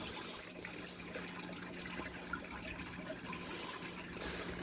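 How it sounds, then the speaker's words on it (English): Water drains from a raised koi pond's bottom drain into a sieve, giving a soft continuous trickle and gurgle with a faint steady hum underneath, fairly quiet and unbroken, no talking. "the water should start draining from the bottom drain into the sieve"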